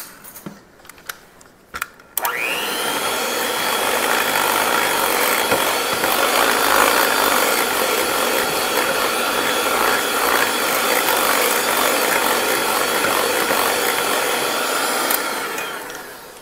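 An electric hand mixer whirs steadily through muffin batter made with milk, chocolate chips and flour, loud and continuous for over ten seconds after a few short knocks and clatters.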